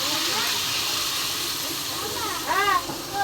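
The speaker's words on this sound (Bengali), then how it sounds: "এবার এই তেলের মধ্যে এই মশলাটা ছেড়ে দেবো সবটা।" Spice paste hits hot oil for a Bengali sorsa chingri, mustard prawn curry, making a steady broadband hiss with a louder crackling surge near the end, fairly close and continuous.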